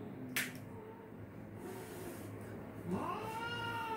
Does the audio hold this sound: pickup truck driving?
no